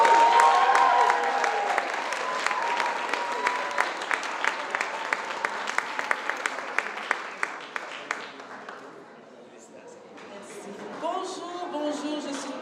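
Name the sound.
audience applause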